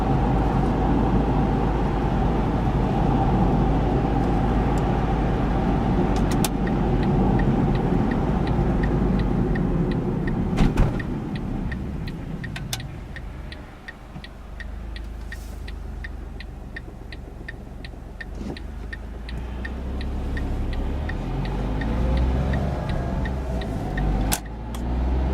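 A 2009 Smart Fortwo Passion Coupe cruising in fifth gear gives a steady low engine drone and road rumble that dips briefly midway, with faint rhythmic ticking from the cabin.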